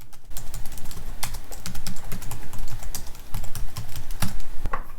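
Rapid, uneven clicking of typing on a Logitech MX Keys computer keyboard, keys tapped close up in quick bursts with no talking.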